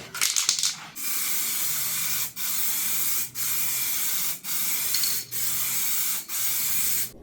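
Tint being sprayed onto the rear lights of a Volvo 240, seven close aerosol bursts of steady hiss separated by short pauses.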